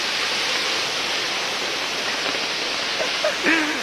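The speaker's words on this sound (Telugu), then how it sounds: "సో వాటర్ ఫాల్స్ దగ్గరకి అయితే వచ్చేసినాం" The Ananthagiri waterfall gives a steady, loud, broadband roar of falling water close by, unbroken throughout, with a brief voice rising near the end.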